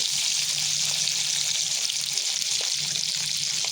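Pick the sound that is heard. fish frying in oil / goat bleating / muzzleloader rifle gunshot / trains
fish frying in oil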